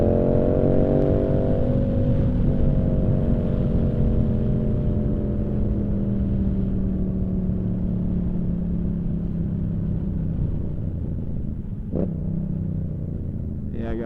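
A Yamaha R7 motorcycle rides along a street, its engine a steady loud rumble with falling pitch as it slows, ending in a brief revving blip near the close; no talk over it.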